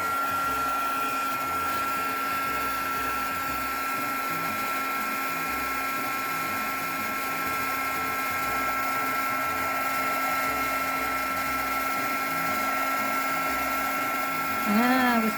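Heat gun warming embossing powder on a stamped card, a steady close whirring hiss with a high whine running unbroken throughout, loud and alone until a brief bump near the end.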